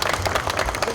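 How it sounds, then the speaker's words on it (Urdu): An audience at a book launch ceremony at Lok Virsa breaks into applause, a brief, moderately loud run of dense overlapping claps. "تو آپ کی بھرپور تالیوں میں نور مجسم صاحب۔"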